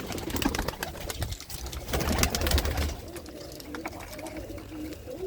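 Pigeons coo repeatedly inside a loft, their soft low calls mixed with rustling and wing movement, with faint voices in the background.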